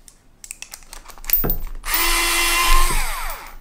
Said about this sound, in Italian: Adesso ha svitato, se noi lo puntiamo, selezioniamo avvita.